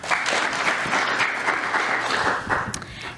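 A festival audience at the Africa Ideas Festival applauds, a dense, even wash of many hands clapping that holds steady and then thins out near the end.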